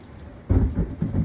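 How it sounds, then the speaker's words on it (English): A sudden low rumble of thunder breaks out during a heavy downpour, swelling in loudness and rolling on over the steady rain. "Thunder."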